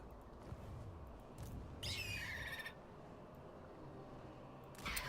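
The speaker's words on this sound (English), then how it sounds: "Gigantic bird noises." Giant bird calls in the Total War Warhammer 3 video game, two shrill screeching cries over a low rumbling game soundscape, one long and one cut short at the end.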